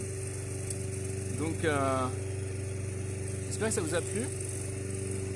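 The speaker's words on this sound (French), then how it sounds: "la tondeuse se rapproche dangereusement et je risque de ne plus être audible" Steady lawn mower engine hum running continuously beneath someone speaking, holding a constant drone throughout without clear buildup.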